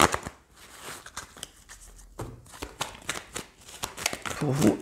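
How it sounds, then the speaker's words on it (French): Tarot cards being shuffled and drawn by hand. Quick, papery riffles and snaps come in short runs while someone speaks over them. "Allez, on va tirer d'autres cartes"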